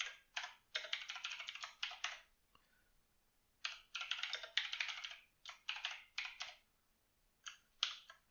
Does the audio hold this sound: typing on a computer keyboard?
yes